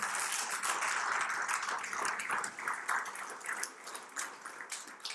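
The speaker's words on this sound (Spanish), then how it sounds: "Da un aplauso a Dios, por favor." Sustained applause and clapping from a church congregation during a worship service, dense and steady throughout, fairly loud and close with no voices over it.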